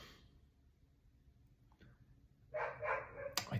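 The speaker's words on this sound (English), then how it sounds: "My dogs are barking" Dogs barking at home, a few quick sharp barks toward the end after a quiet stretch, fairly close and loud.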